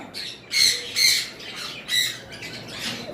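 A sun conure parrot from a breeding pair gives a run of sharp, piercing squawks, four or five loud bursts spaced apart with softer calls between, close and alone.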